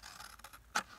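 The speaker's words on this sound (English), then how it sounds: "I'm going to cut it now instead of after" Scissors snipping through packaging material being trimmed for journal embellishments, a single short crisp cut standing out against quiet room tone with faint rustling before it.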